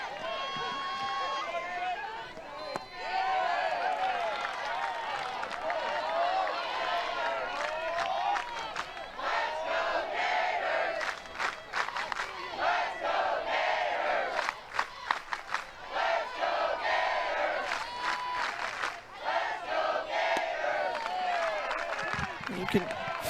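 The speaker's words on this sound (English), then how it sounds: "You can feel and hear the crowd" Loud crowd cheering and roaring throughout at a college softball championship game between Florida and Georgia, a sustained wall of noise with sharp claps and shouts, and an announcer talking over it.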